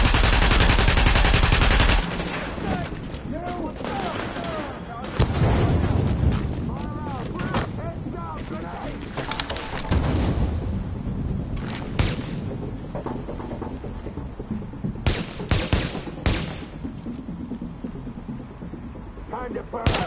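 Gunfire and explosions in a PS4 video game, with a loud blast at the start followed by bursts of rapid shots and booms, with voices talking over the combat.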